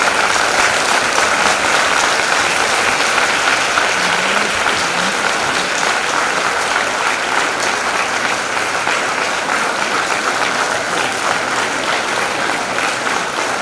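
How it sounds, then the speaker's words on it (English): A memorial oration audience gives a standing ovation, loud sustained clapping from a large crowd that stays dense and even for over thirteen seconds with no pause. "Keep clapping."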